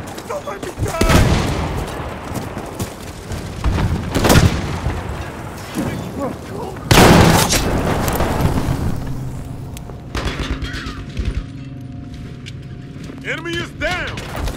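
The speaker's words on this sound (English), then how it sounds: "a grenade!" Battlefield 5 Breakthrough combat with several loud grenade and explosion blasts booming close by amid scattered gunfire, while soldiers' voices shout over the noise in between.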